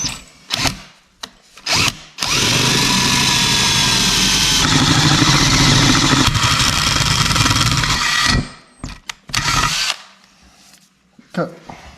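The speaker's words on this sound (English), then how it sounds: "I'm going to drill a hole" A power drill bores a hole into an exhaust pipe on an 85 Chevy C10 with a 5.3 LS swap, a loud, steady whine of about six seconds between short bursts and clanks.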